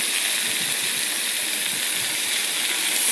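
Vegetables sizzling in a hot pan: two ridge gourds, a medium potato, a large eggplant and a small tinda. A steady, dense hiss holds at close range throughout, with no talk.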